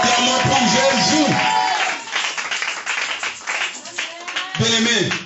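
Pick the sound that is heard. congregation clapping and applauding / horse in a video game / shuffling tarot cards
congregation clapping and applauding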